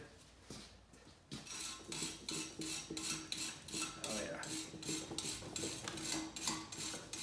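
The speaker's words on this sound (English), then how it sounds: "Next I'm going to wire brush these bolts. They look a little rusty here." A wire brush scrubs hard against rusty bolts on a 1968 Impala disc brake assembly in steady back-and-forth rasping strokes, a dozen or so in a regular rhythm, close and fairly quiet with no voices.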